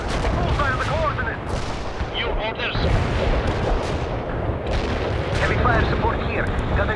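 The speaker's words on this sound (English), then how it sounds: "We can deploy and lay down a heavy barrage." A heavy artillery barrage in the World in Conflict video game, dense continuous booming and rumbling explosions with bursts of gunfire and radio chatter layered over it.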